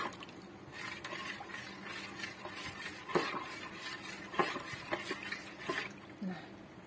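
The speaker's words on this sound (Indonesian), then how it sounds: "kita masukkan 1400 ml air, ini air mentah biasa. Lalu kita aduk merata." Water being stirred into tempeh kremes batter in a bowl, with a utensil scraping and clinking against the bowl in a steady, close churning sequence; a voice speaks briefly over it.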